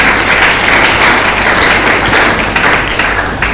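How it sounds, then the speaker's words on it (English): An audience at a physiotherapy induction ceremony in Nigeria claps loudly and continuously, a close, dense burst of applause with no talking. "Please give the government a hand of applause."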